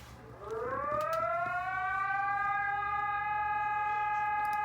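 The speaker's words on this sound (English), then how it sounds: "We're doing the Brazilian EAS alarm." A Brazilian EAS emergency alert siren rises in pitch and then holds a loud, steady multi-tone wail, with faint background noise beneath it.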